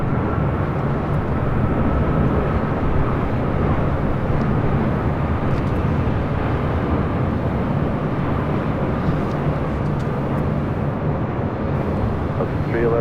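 A FedEx 767-300 freighter touching down on runway 25 left at LAX: a steady, broad, distant roar of jet engines rumbling evenly throughout, with wind noise on the microphone.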